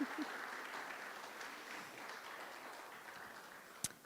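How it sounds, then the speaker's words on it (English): Quiet applause at a guide dog graduation ceremony honors a graduate and her dog: a soft, distant, steady patter of clapping, with one sharp click near the end. "let's go ahead and give Megan and Patton a round of applause"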